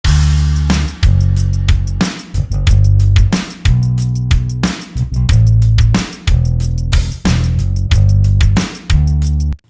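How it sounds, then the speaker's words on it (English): Programmed electric bass from a Rickenbacker bass sample library plays a driving line over drums in an acoustic guitar production, with full, sustained low notes separated by short breaks in a steady rhythm; instrumental only, no voices. "For the bass, I have used another Kontakt library called the Rickenbacker bass"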